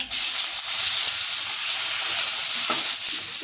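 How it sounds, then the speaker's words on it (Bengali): Onions and green chillies fry in hot oil with nigella seeds for a pomfret curry with eggplant and potato, giving a loud, dense, continuous sizzle and crackle close up, with no talking. "তেল গরম হয়ে গেছে কালো জিরে ফোড়ন দেব পেঁয়াজ আর কাঁচা লঙ্কা"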